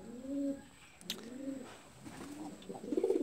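A pigeon suffering from bubul disease coos close by in a series of about four soft, rolling, throaty calls separated by short pauses, the last one fuller and louder.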